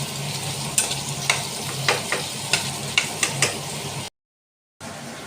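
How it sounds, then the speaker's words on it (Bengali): Cubed potatoes fry to a reddish brown, a steady broadband sizzle broken by sharp rhythmic scrapes and clicks of a spoon stirring them, with a brief drop to silence near the end before the frying resumes. "আলুগুলো কিউব করে কেটে রেখেছিলাম, এবার লাল লাল করে ভেজে নেব।"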